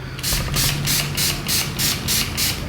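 Repeated short hissing bursts of a makeup setting spray bottle, about eight quick pumps in an even rhythm, close and fairly loud.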